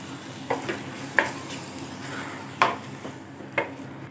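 Ground paste is mixed into masala frying in a pan for a vegetable curry: a quiet sizzle broken by four or five distinct spoon scrapes and stirring knocks at uneven intervals.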